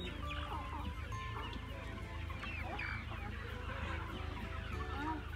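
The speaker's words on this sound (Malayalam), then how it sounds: "നാടൻ കോഴി." Native country chickens cluck and chatter continuously on a farm, with several birds calling at once at moderate distance and faint voices in the background.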